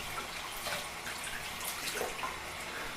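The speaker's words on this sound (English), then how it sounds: "I can tell the water's a little hot, so I'm going to dial it cooler to the right." Tap water runs steadily while hands are rinsed under it, a close, continuous hiss with small splashes and drips throughout.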